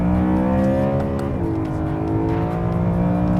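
A 2011 BMW M3 engine revs hard and close, its harmonic whine holding steady then dropping in pitch as it shifts, alone with no talking.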